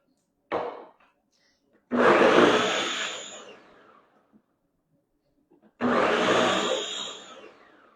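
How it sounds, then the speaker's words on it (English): A Ninja blender blending non-dairy milk whirs in three separate bursts, a short pulse followed by two longer runs that start loud and gradually fade, with silence between them. "But we're using a Ninja blender"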